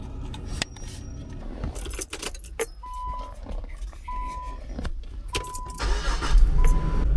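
Car being started after a 4G LTE dual dash cam is installed: keys jangle, then repeated chime tones and interior clicks sound before the engine catches and rumbles at the end, close up inside the cabin.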